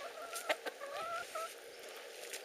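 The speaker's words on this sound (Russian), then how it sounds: "Неблагодарный петух." A rooster clucks in short bursts, a few sharp calls against quiet farmyard background, moderately close and clear.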